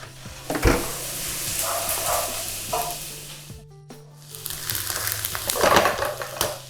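Onions frying in a pan for butter chicken, a close crackling sizzle with stirring scrapes, briefly dropping out midway before the sizzle returns louder.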